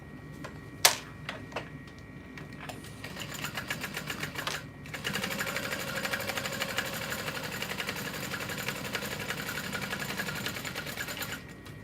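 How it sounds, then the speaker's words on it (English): A sewing machine top stitching through the bottom panel of a bag: a few sharp clicks and short bursts at first, then a steady, rapid mechanical whirr that runs on continuously, close up with no talking. "top stitch through that bottom panel"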